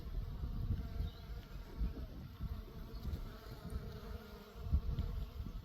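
Close, continuous buzzing of bees on basil plants in a coastal garden swells and fades as they move around nearby, with no voices.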